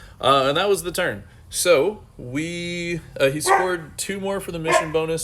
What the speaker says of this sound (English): Excuse the dog serenading.